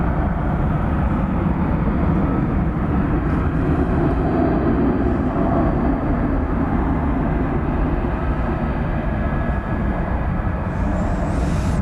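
An American Eagle Embraer 175 regional jet takes off at DFW at night, a loud, continuous jet roar with strong low rumble sustained throughout.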